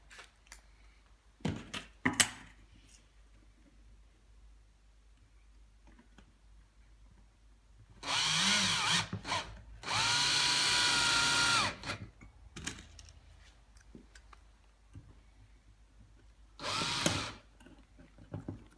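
Power drill driving small 3.15 screws into a wooden Dadant beehive, three short bursts of whirring with quiet gaps and light clicks of handling between them.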